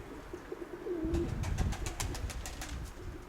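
White pigeons, a pair with a young hen, coo softly at close range in a loft, a low rolling call sitting under a flurry of light flapping and rustling.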